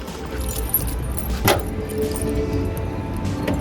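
Keys jangle briefly as a car is locked, with a sharp click near the middle, set against quiet outdoor ambience.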